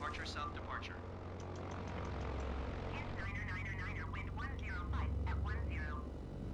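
In MS Flight Simulator, an airplane takes off, its engine droning steadily and swelling in strength. Someone talks over the sound throughout.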